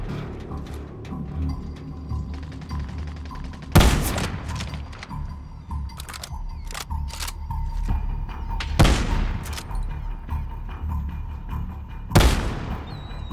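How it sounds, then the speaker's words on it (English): Enemy gunfire in Call of Duty: Modern Warfare: sharp broadband shots and bursts crack out near 4, 9 and 12 seconds, with smaller rapid shots scattered between them over a steady low rumble of in-game ambience. "They're shooting at me!"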